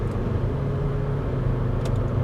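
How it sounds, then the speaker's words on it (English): Inside a Volvo XC90 D5 diesel SUV on the road in Spain, a steady low engine and road rumble drones in the cabin, even and continuous with no voices. "I can actually hit the gas to get out of the Audi's way."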